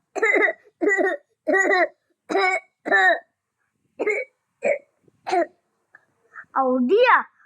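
Cartoon characters from Peppa Pig cough over and over in short separate bursts, loud and close, ending in a longer vocal sound.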